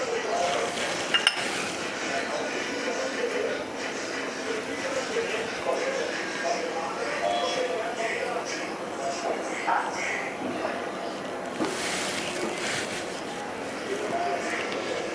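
Ground masala paste sautéing in oil in a pan for a no-onion, no-garlic Jain gravy, a steady close sizzle with clinks and scrapes of a spoon against the pan throughout, with a voice speaking over it.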